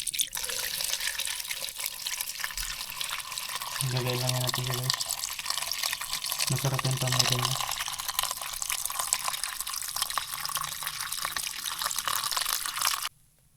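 Water runs and splashes steadily throughout while a person talks over it, the flow ending abruptly at the close.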